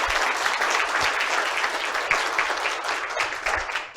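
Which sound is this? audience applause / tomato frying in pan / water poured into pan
audience applause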